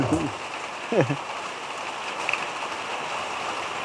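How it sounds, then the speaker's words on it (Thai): Steady rain falls outdoors as a soft, even hiss of drops on surfaces, continuous and fairly close, with someone speaking briefly near the start. "พอดีก็ฝนตก"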